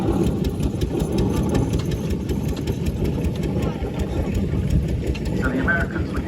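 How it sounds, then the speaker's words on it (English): An American-design steam ploughing engine runs at an old-time rally, a dense, continuous rapid mechanical chugging held close and loud while someone talks over it. "a ploughing engine, in this case, of the American design"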